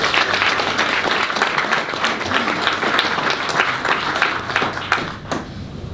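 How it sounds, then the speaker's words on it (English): Dense, loud applause from a crowd at a boxing press conference, sustained steadily throughout with many overlapping claps and faint crowd murmur underneath. "we're going to have a round of applause for everyone today"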